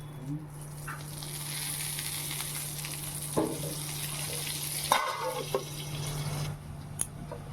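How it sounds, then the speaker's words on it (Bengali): Eggplant slices fry in oil in a home kitchen, a faint, steady sizzle with a low hum and a few soft clinks of utensils. "এই যে দেখো বেগুন ভাজা চাপিয়েছি"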